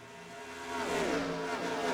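Race cars at Kansas in the NASCAR Racing 2003 video game, a brief engine roar swelling as cars accelerate close by, rising in pitch and loudness over under two seconds, no talk.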